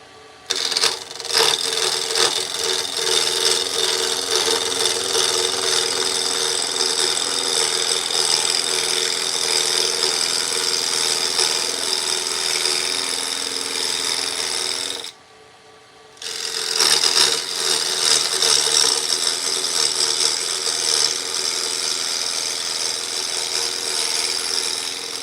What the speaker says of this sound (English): This is a very good lathe.